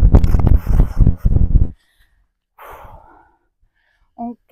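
During a morning gym routine a person speaks briefly, then after a pause lets out one deep, audible breath that swells and fades. A faint short sound follows near the end.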